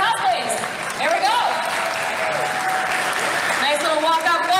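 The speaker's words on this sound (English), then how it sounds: "And we give a round of applause as we go through all of our cosplays." Audience applauding cosplayers walking across the stage at a games expo, continuous close clapping and cheering with an announcer talking over it.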